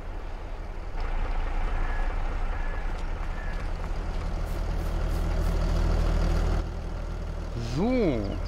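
Tractor engine in Farming Simulator 22 turning over and settling into a steady low diesel rumble, loud and continuous, with a short rising and falling tone near the end and no clear talking.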